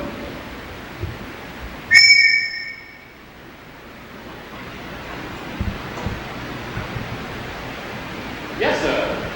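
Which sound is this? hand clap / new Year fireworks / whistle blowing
whistle blowing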